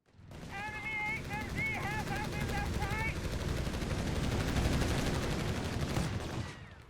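Machine gun fire from a video game comparing the American .30 cal against the German MG42, a steady rattling burst running throughout while someone talks over it at first.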